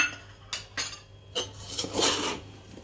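Spoons clink against a pot or jar as red masala goes into homemade raw mango pickle, a few separate metallic taps and scrapes spaced across the moment, close and fairly quiet.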